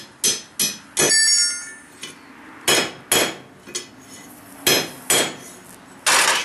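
Hammer blows drive a 1/4 inch drift through hot steel tongs at the forge, about ten sharp ringing metallic strikes in an uneven rhythm, close and loud with short pauses between groups.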